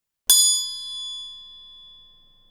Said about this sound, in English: Ding, ding. The bell tolls for thee.